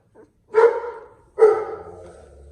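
A one-week-old German Shepherd puppy makes two short squeaky, whiny vocalizations close by while nursing, with a faint murmur between them.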